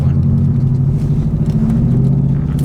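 A 2010 Subaru WRX GR hatchback with a 3-inch straight-pipe exhaust drifts on snow, its loud, deep, rumbling engine drone holding constant and close throughout.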